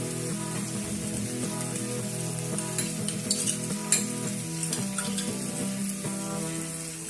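Mustard and poppy seed paste thinned with water, stir-fried in a pan: continuous frying sizzle with repeated spatula scrapes and clicks, near and fairly loud, no voices.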